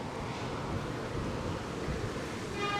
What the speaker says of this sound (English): very windy out here